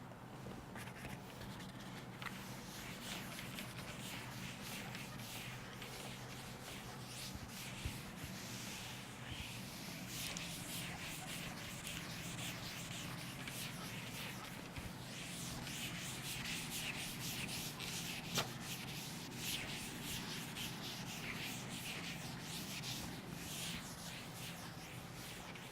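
A board is wiped clean of written chalk or marker, giving a continuous, even rubbing and scrubbing that runs steadily throughout at moderate distance, with no speech over it.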